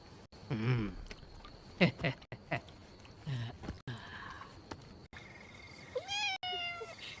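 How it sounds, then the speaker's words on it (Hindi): A cat meows several times while being given milk, drawn-out wavering cries separated by short pauses, over a quiet background with faint voice-like sounds. "अगर बिल्ली को दूध दे दिया हो तो जाओ और जाकर सो जाओ।"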